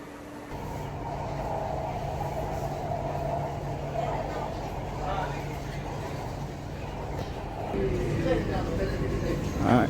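A Chennai metro train heading to the airport rumbles steadily along with a low, continuous hum and rising mechanical whine, the noise swelling slightly near the end.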